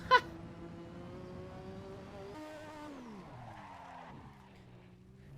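A race car in a racing game slides through a turn, its engine whining at a steady pitch and then dropping in pitch as the tires scrub and squeal, with a brief sharp hit at the start and no talk.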